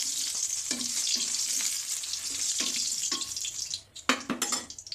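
Eggs coated in turmeric and salt fry in mustard oil in a kadai, a steady bright sizzle with scattered stirring clicks and scrapes, close and fairly loud. The sound briefly thins near the end before flaring again.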